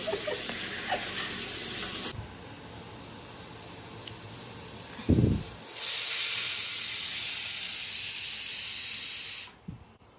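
Potatoes frying in oil for biryani, a steady close hiss and sizzle that cuts out and returns in bursts, with a brief clatter in the middle.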